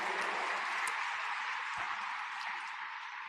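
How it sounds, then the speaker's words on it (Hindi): An audience applauds a guest of honour, Maharaj Kumar Lakshyaraj Singh Mewar, on stage at a Brahma Kumaris event: steady, dense clapping from a large crowd, loud and continuous, fading slightly toward the end, with no voices over it. "मैं चाहता हूं उनके अभिनंदन में भी तालियां बजाएं"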